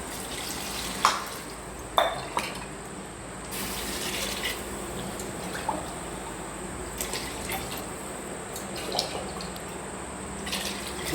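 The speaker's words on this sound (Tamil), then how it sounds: "தண்ணி ஊற்றிக்கலாம்" Water runs steadily from a tap or is poured into a pot in a kitchen while cooking, a continuous moderate splashing flow with a few small clinks and knocks, no talking.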